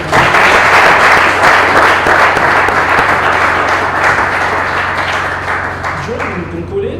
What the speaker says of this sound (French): Alors je vous prie de l'accompagner, de l'applaudir.